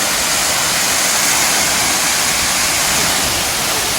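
A large roadside waterfall roars as a loud, dense, unbroken rush of water, heard up close and alone for four seconds.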